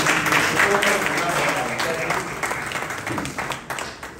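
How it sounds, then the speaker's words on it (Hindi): Audience applause at a Hindi international magazine event, clapping strong at first then gradually thinning and fading, with some voices mixed in toward the end. "बेटा तालियां उनके लिए बजाएं।"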